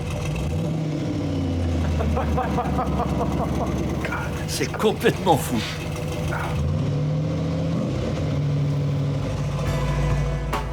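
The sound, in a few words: car engine revving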